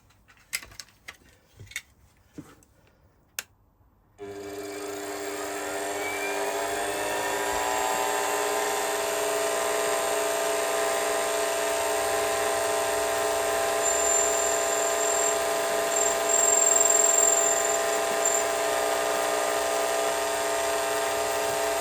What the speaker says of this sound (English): drilling that 6mm hole in the side there.